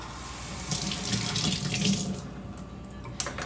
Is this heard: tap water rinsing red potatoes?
yes